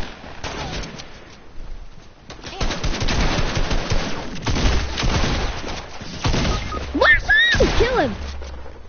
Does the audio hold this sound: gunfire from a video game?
yes